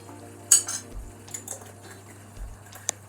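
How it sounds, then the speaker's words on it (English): Chili being stirred into chicken curry in a pot, with a few light clinks of a spoon against the metal and soft scraping, quiet and close, with no talking. "Stir it properly, mix it in"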